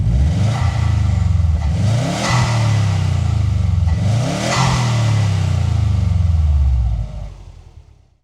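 A lifted Subaru Forester XT engine revs hard through a snorkel air intake, a loud, close, steady throaty drone with two rising swells before it fades out at the end.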